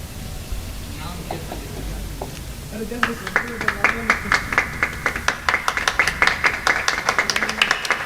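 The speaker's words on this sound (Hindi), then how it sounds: "तालियां आप लोग बजाते रहें।" Audience applause at a welcome ceremony, starting as scattered claps and building into steady, fairly loud rhythmic clapping, with voices speaking underneath early on.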